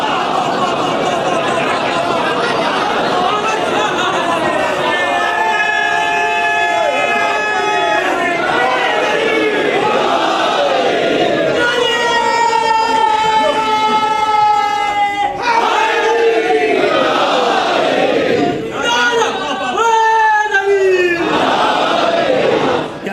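A mosque congregation reciting salawat together, many voices chanting in unison in loud rising and falling waves over about twenty seconds.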